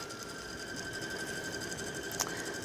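A sewing machine stitching at nearly full speed, giving a fast, steady mechanical whir and needle patter that is even and continuous, close but fairly quiet, with no talking.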